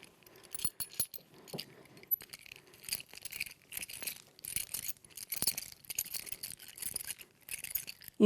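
Film-used metal horse tack handled as foley gives off soft jingles, clinks and small squeaks in irregular bursts, close and fairly quiet, with no talking.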